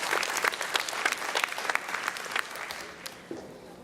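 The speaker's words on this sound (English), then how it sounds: "Can we give them a round of applause?" Sustained audience applause fills a motivational speaking event, dense clapping steady throughout before tapering slightly near the end, with faint voices mixed in.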